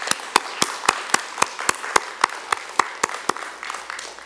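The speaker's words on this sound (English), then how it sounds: "Let's give Dr. Celia Fajardo Hill a warm round of applause." Slow rhythmic clapping at the CAA Feminism Award ceremony in Boston for Dr. Celia Fajardo Hill, about sixteen evenly spaced sharp claps, fairly close and distinct.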